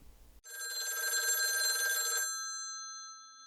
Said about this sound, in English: I talked to LBJ on the phone.